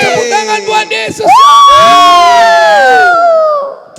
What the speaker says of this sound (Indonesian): Beri tepuk tangan buat Yesus.